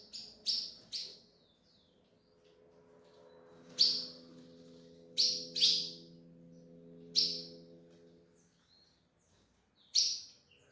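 Two 33-day-old azulão (ultramarine grosbeak) chicks give sharp, high chirps in separate bursts of one or two, close by, over a low steady hum.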